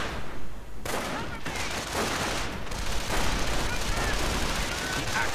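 Panzergrenadiers firing suppressive rifle volleys against riflemen in a World War II strategy video game, dense overlapping gunshots and crackling fire rattling continuously, loud and busy.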